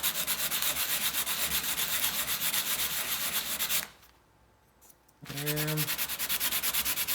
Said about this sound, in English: maybe I'll give it a go with a heavier grit here, with some 100 grit.